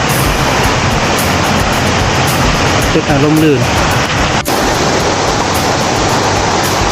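A forest stream runs below the Siriphum waterfall on Doi Inthanon, a steady broadband rush of water filling the whole stretch while someone speaks over it.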